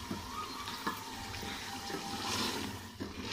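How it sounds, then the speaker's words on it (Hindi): Water pours into a cooking pot during a winter recipe, giving a steady splashing rush with a few soft clanks, heard close and alone without talk. "अब हम थोड़ा सा इसमें डालेंगे पानी"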